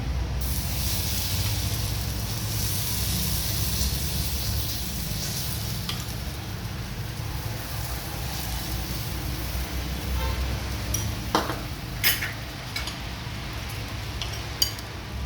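Egg bhurji toast frying in oil in a pan on a gas stove, a continuous close sizzle with occasional scraping stirs and light metallic clinks of a utensil against the pan.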